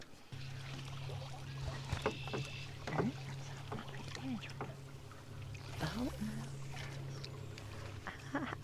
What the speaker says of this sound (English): So far, the motor's doing really well. We're going through some pretty thick, big lily pads.